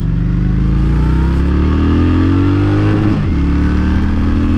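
A Honda Shadow 750cc motorcycle engine runs loud and close with a steady rumbling idle, rising in pitch as it revs up, then dipping briefly before settling back into a strong, continuous drone.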